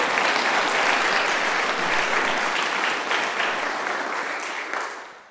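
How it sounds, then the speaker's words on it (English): A full audience at an event applauds its sponsors: thick, continuous clapping from many hands, loud and close, that holds steady and then tapers off over the last second. "So let's give a round of applause to our sponsors."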